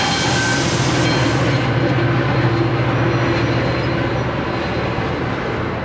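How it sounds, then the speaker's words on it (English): Tennessee Central Railway train running on rails out of Lebanon toward Nashville, a steady loud rumble of rolling wheels and rail noise close by throughout, with no voices. "On May 27, 1902, the first TC train to Nashville departed Lebanon, carrying Jer Baxter and his supportive team"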